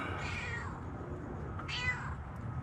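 A cat meows twice, a drawn-out call followed by a shorter one a moment later, close by over a low steady background hum.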